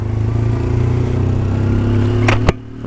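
A Honda Mix 150 motorcycle engine runs steadily close by with a loud, continuous mid-pitched drone, then a sharp clack cuts it off near the end before the engine sound resumes.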